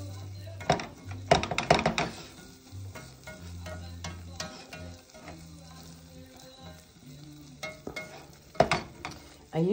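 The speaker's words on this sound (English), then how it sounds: "So I'm just going to keep whisking" A whisk stirs milk into a sauce in a pan over medium heat for scalloped potatoes, with irregular clinks and taps against the pan and a soft background hum.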